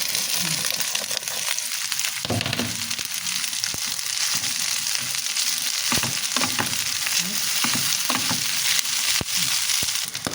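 Fried rice with carrots, red bell pepper, hotdog and broccoli sizzling steadily in a pan, with scraping and stirring clatter throughout and no talk.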